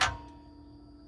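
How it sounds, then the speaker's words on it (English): Fuel pump priming on a 2013 Kawasaki Teryx 4 750 with a fuel delivery fault, a single click followed by a faint steady mechanical hum, close and quiet, with no talk. "the fuel pump comes on"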